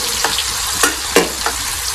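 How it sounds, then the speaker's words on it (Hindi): Tomato and onion fry in leftover oil and ghee with a loud, close hiss. A few sharp stirring scrapes and spatters punctuate the two seconds. "इसी बाकी बचे हुए ऑयल के अंदर जो है हम टमाटर और प्याज डालेंगे। इसको फ्राई करेंगे।"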